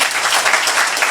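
Steady applause from an audience at a lifetime achievement award ceremony, dense continuous clapping that holds fairly loud and even for the whole moment with no voices over it.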